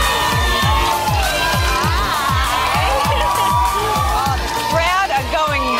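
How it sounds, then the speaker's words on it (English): A crowd at a modelling competition event cheers and shouts loudly over a pounding, regular music beat, with voices mixed in throughout. "The crowd are going wild."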